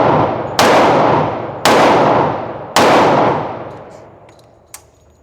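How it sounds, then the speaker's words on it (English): Three loud, close 10mm shots from an M&P pistol firing Blazer ammunition ring out at uneven intervals, each echoing as it decays, then a faint click once the firing stops. "this is the last 5 rounds out of this box of Blazer, and we're gonna run it"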